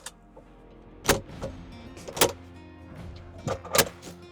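Electric motor whirs and mechanical clunks from the convertible soft top of a Honda S2000 with a fault that keeps it from folding fully down, several distinct bursts and thumps at close range in a quiet space.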